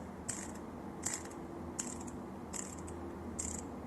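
A Seiko SRPC51K1 dive watch bezel turns in small steps, giving five crisp, light clicks at a steady pace, close and quiet against a soft background.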